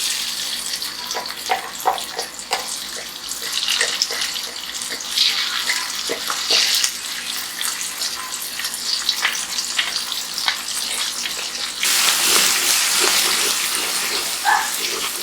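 Chili sambal paste sautéing in a pan, a steady hiss and sizzle with scattered crackles, close and fairly loud, growing denser toward the end.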